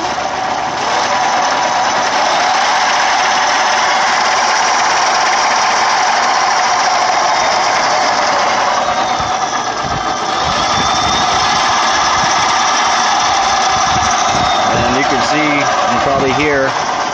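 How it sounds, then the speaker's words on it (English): A 36-volt electric scooter motor winds up to high RPM while spinning the rear tire on a stand, with a loose drive chain, giving a steady, loud whine and rattle that carries through the whole stretch while someone talks over it. "that motor wind up, it's a lot more RPMs like that"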